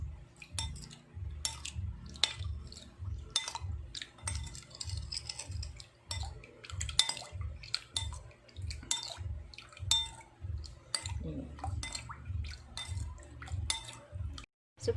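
Chicken and vegetables for Korean spicy chicken stew stirred with half a cup of water in a pot, a soft liquid sloshing with light clinks of a utensil against the pot over a low steady hum, quiet and close.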